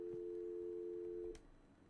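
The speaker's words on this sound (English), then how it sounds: "We can also choose the speaker button, and you should be able to hear a dial tone." A steady, quiet dial tone from an IP phone on speaker hums continuously, then cuts off abruptly after a soft click.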